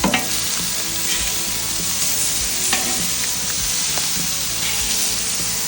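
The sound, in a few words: blackened striped bass fillets sizzling as they are flipped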